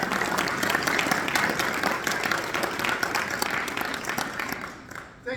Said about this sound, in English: Let's bring up our first speaker and give a warm round of applause